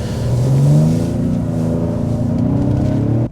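A 2021 Ford Explorer Platinum plug-in hybrid with a V6 engine accelerates, giving a steady, loud, close engine drone with a rising tone that holds for several seconds before cutting off abruptly.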